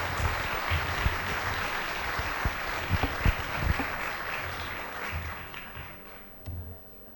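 Listeners at an agricultural conference lecture clap together in dense, steady applause that holds for several seconds with a few sharper claps standing out, then thins and fades toward the end.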